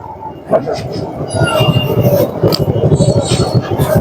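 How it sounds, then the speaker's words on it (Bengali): A train runs past a busy food market, its rumbling wheels and rhythmic clatter heard close by beneath the chatter of a crowd. "ট্রেন চলতেছে"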